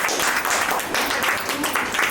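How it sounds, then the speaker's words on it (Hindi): Audience applause for a guest at the opening of a new franchise outlet, a dense continuous wash of many hands clapping at close range, fairly loud throughout. "जोरदार तालियां मैम के लिए।"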